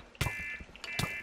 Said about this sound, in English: Shut the hell up, timer.